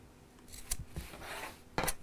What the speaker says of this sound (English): while we're there we'll just snip across the corners.